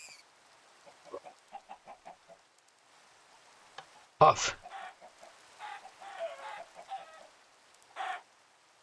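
Chickens in the video game Minecraft clucking in short, scattered bursts at moderate distance, with a sharper squawk partway through and a brief spoken word under the game sounds.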